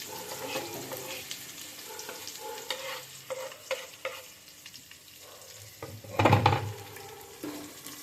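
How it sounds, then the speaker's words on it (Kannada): Onion being stir-fried in a pan for egg bhurji: a low crackling sizzle with busy spatula stirring and scraping, one louder clatter of utensil against pan near the end. "Take the clip and stir well the onion."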